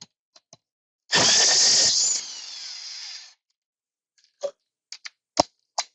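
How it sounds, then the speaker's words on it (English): Electric impact wrench spinning off lug nuts on a 2008–2012 Ford Escape Hybrid during front bearing work: one loud, sustained whirring burst of about two seconds, trailing off, followed by several short sharp clicks and knocks. "handy dandy electric impact wrench. This thing's amazing, but it makes short work of this job"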